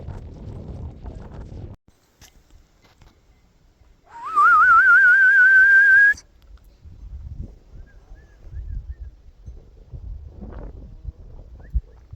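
A single loud, wavering whistle rises and holds for about two seconds, preceded and followed by soft hoof clops and rustling outdoors.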